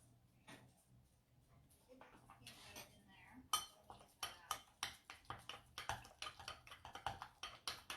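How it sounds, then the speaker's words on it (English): A utensil stirs a thick key lime matcha protein bite mixture with peanut butter in a bowl, sounding as a quickening run of close, rhythmic clinks and scrapes that grows louder and more regular partway through. "we need to stir it"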